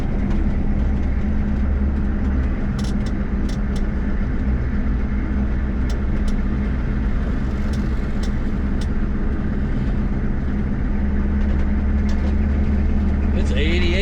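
A 1983 Chevrolet Silverado pickup with a diesel engine and factory 4-speed driving, a loud steady low rumble with road and wind noise throughout and a voice talking over it.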